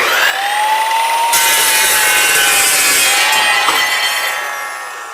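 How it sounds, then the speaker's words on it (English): A carbide-tipped saw blade, turning at a slower speed than an abrasive saw, cuts steadily through stock with a loud, continuous bright rasp and a ringing whine that runs unbroken for several seconds, fading slightly at the end. "This saw is not like your regular abrasive blade saws"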